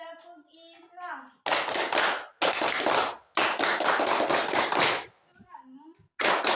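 Children in a religious education class clap the Tepuk Islam chant, loud rhythmic bursts of claps broken by short chanted call-and-response phrases between them.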